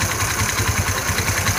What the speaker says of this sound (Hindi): दोस्तों बाइक हमने स्टार्ट कर दी है